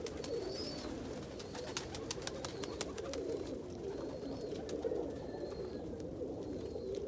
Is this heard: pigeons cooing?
yes